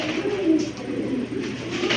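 Giribaz racing pigeons coo close by in a soft, rolling murmur, a pair's low throaty calls repeating steadily over a faint room background.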